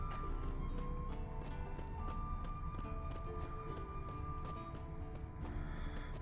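Horse hooves pound in a steady galloping clip-clop while riding in The Witcher 3, with a brief whinny, layered over a continuous game soundtrack and ambience, no talk.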